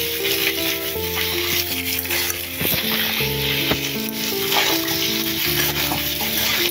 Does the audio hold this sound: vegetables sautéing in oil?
yes